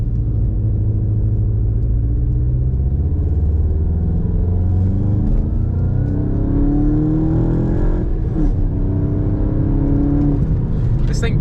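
A VW MK7 GTI accelerating, its engine rumbling and building with rising pitch through the gears, steady and prominent inside the cabin, with a brief shift break near the end.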